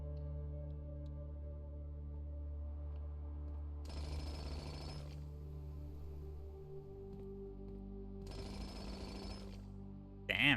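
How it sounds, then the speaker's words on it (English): Two harsh bursts of jackhammer drilling from the video game Blue Prince, each about a second long and several seconds apart, cut loudly through a steady musical background. "Damn, this jackhammer's kind of sick."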